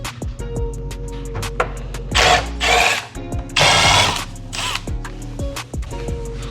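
A ratchet or hand tool works a bolt on the turn signal assembly of a 2025 Honda CR-V, with several close bursts of clicking and scraping and a faint mechanical hum between them.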